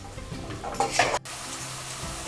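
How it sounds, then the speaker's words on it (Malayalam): Sliced onions sautéing over a medium flame in a pan while cooking an egg curry, a soft close sizzle with a quick stir and a brief scrape of a utensil, no voices. "ഇതൊരു മീഡിയം ഫ്ലെയിമിൽ നമുക്കിട്ട് ലൈറ്റ് ബ്രൗൺ കളർ ആവുന്നവരെ വഴച്ചെടുക്കാം."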